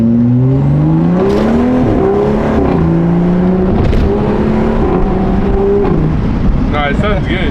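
Exhaust of a BMW F30 335i fitted with a VRSF catless downpipe, heard from inside the car. It drones loudly as revs climb, then drops on each upshift, and a voice speaks over it.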